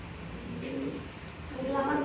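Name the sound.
pigeons cooing at a pigeon farm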